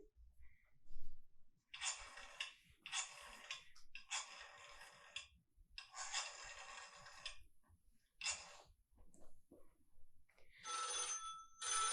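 A telephone bell rings in repeated bursts in a high school stage play, each ring about a second long with short pauses between, loud and close with no talking.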